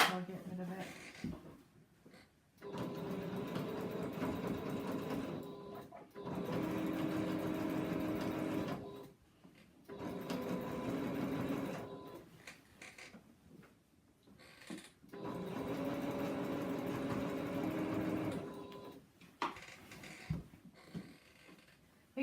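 A sewing machine stitches through a layered quilt sandwich with cotton quilting thread, running in several long steady bursts separated by brief pauses, close and moderately loud.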